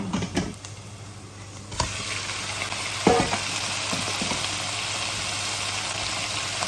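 Chicken pieces frying in a pan for chicken bihon guisado, with a loud steady sizzle that jumps as food is stirred and shifted, close by, with occasional clinks and scrapes.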